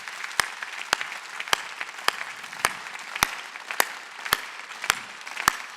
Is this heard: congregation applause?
yes